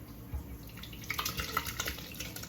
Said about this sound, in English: Y'all hear water in the background? I'm a person that runs water when I'm in the kitchen.